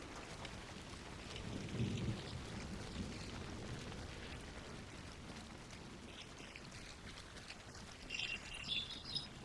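Steady rain with low rumbling thunder in the video game Hunt: Showdown, a faint, continuous hiss of falling rain with a distant roll of thunder and a few high chirps near the end.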